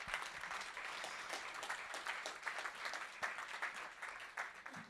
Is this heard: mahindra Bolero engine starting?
no